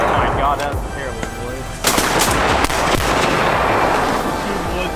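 Gunshots fired while duck hunting in the field ring out as several sharp, loud cracks over a noisy outdoor background, with voices talking through the shooting.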